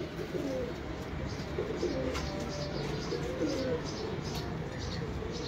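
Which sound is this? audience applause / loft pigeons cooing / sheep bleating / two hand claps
loft pigeons cooing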